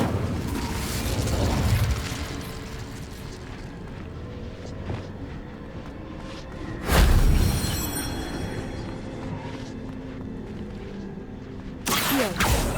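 Incendio fire spell cast in the Hogwarts Legacy video game: a sudden booming fiery burst, with lighter mechanical clicks and rumbles around it and another sharp burst near the end.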